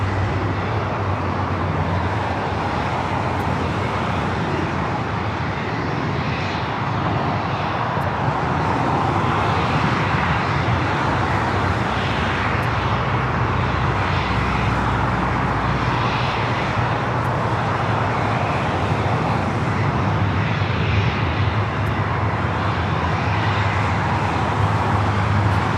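An American Airlines jet takes off from runway 25 right at LAX, its engines producing a loud, sustained broadband roar that holds steady and fills the whole stretch without any talk.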